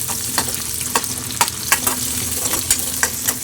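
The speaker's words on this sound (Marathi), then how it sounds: "तेल तापलेलं आहे कढईत मोहरी जिरे घालायचे" Mustard seeds and cumin sizzle in hot oil in a kadhai while red radish greens are prepared, a steady close fry hiss broken by sharp pops and crackles every fraction of a second.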